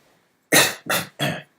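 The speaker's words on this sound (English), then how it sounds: "I'm half pretending to cough just for fun, and then half actually coughing" Three short, sharp coughs in quick succession, close and clear, with silence before them.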